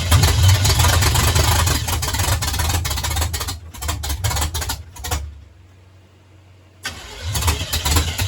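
A 1978 GMC truck engine cranking hard with rapid rhythmic pulses and catching into a rough run, falling quiet for a couple of seconds, then cranking and firing again, loud and close with no talk.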